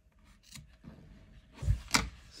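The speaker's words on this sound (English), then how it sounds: "And now I cut" Scissors snip through amigurumi yarn while an angel doll's hair is trimmed close, making a couple of faint, short cuts near the end amid quiet room noise.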